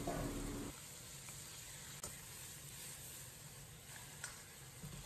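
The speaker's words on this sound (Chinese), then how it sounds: "炒出香味以后放入鱼头、" Fish head and fish bones fry in a wok with dry-pot sauce and hotpot base, giving a continuous close sizzle and hiss, with a few sharp scrapes and clicks of stirring.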